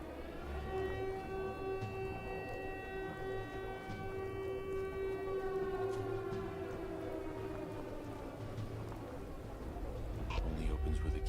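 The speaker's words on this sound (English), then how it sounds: "The timing could not have been worse for this siren to be going off right now." A wailing siren in the video game Fallout 4 blares steadily and loudly throughout, its sustained tone holding with a rising swell near the end over a rumbling low background.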